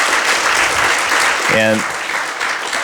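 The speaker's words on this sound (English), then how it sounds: "let us give a big round of applause for our three speakers" A lecture audience at a talk event co-hosted by DSET and Business Weekly gives a sustained round of applause for three speakers: dense, even clapping throughout, with a single word spoken briefly over it.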